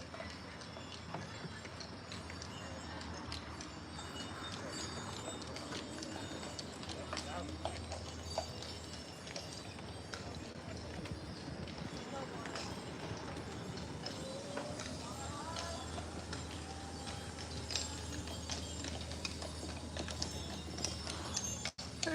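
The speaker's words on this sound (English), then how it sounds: "There's a horse coming and a horse going." Horses clip-clop past a campsite at Fort Wilderness during the Christmas season, hooves knocking steadily at mid-distance under a continuous bed of crowd chatter and outdoor ambience.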